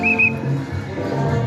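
A short, shrill whistle sounds twice in quick succession near the start, then fades into a low background hum, at the Festival of Corn in Matagalpa, Nicaragua.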